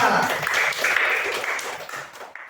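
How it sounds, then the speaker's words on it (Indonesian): A school classroom applauds a student group after its presentation, a burst of many children clapping that starts strong and gradually thins and fades toward the end. "tepuk tangan buat kelompok A"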